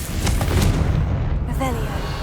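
A Confringo blasting spell going off in the game Hogwarts Legacy, a heavy booming explosion with a rumbling tail, while a voice speaks briefly over it near the end.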